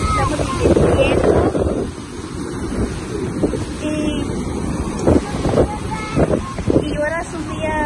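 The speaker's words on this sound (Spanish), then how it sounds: "Vinimos a la playa y nos estamos divirtiendo." Steady wind buffets the microphone at a sunny beach, with rolling surf beneath it and voices chattering on and off throughout.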